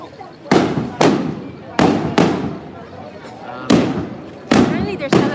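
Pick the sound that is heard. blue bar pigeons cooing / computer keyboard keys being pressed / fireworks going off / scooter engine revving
fireworks going off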